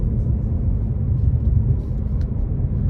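Deep, steady engine rumble from a 2023 Ford Mustang Mach 1 while driving, a loud low drone heard from inside the car with no talking.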